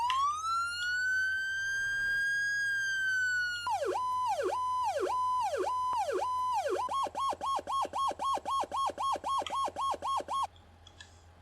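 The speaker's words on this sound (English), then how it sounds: "You want to hear the sirens?" Emergency vehicle sirens in a firefighting video game: a rising wail held steady, then switching to a faster yelp pattern and finally a rapid pulsing chirp, loud and clear with no talking.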